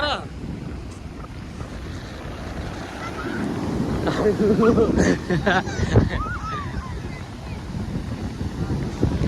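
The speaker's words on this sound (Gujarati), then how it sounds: "મસ્ત ઠંડુ એમ પવન આવે" Cold wind gusts over the seashore at Dwarka, a steady rough buffeting roar with faint surf underneath and snatches of voices in the background.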